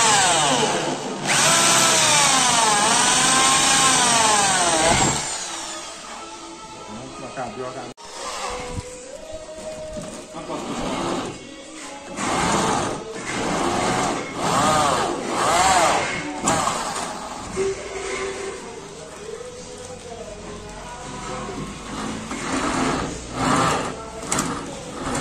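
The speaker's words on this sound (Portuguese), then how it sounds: "Essa broca aqui, uma oitava, depois você vem com a 6mm." An electric drill bores a hole in a Chevrolet Cruze 1.8 car part, first with a pilot bit and then a 6mm bit, its motor whining steadily and shifting pitch as it bites, with people talking nearby.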